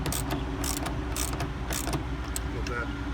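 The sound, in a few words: mini ratchet tightening a bolt on a trailer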